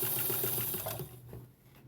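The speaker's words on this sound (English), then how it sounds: "Okay, so now I'm going to start stitching it down to the front." A sewing machine stitches a quilted tree skirt, running with a fast, steady mechanical whir and needle rhythm close to the microphone, then slowing and fading toward the end, with no voices.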